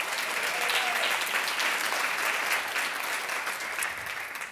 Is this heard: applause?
yes